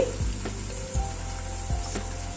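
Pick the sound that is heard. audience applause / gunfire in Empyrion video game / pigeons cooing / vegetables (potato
vegetables (potato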